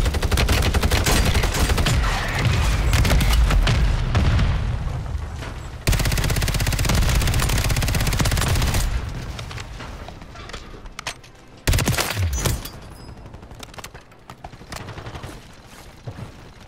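Heavy gunfire from a Call of Duty: Warzone Resurgence trios match, loud, dense bursts and booms filling most of the stretch, easing into sparser distant shots before another sharp burst, with no talking.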